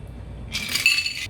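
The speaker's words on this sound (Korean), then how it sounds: "캡을 열고 잔의 밑부분을 잡으신 다음에 따라줍니다." A shaken Cosmopolitan is poured from a cocktail shaker into a glass, a bright liquid rush that starts suddenly halfway through and runs steadily to the end, close and fairly loud with a faint clink.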